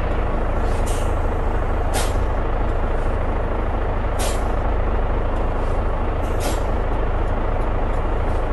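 Air brakes on a Hino FM 260 truck mixer release in sharp hissing bursts, roughly five over several seconds, above a loud, steady diesel idle.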